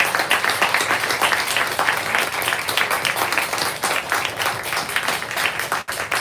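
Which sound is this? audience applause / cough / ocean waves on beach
audience applause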